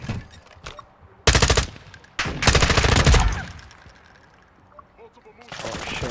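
Machine gun fire in the Modern Warfare II beta, loud sustained bursts in two main volleys with a later rattling stretch, mixed with in-game radio voices and chatter.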